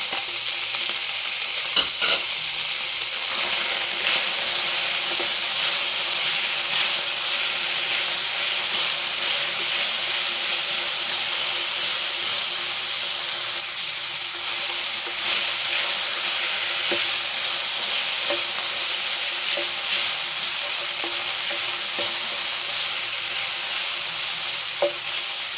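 Onion and tomato sizzle and fry in a hot pan, a steady, bright hiss running continuously with occasional stirring scrapes and small pops, close and fairly loud with no talk.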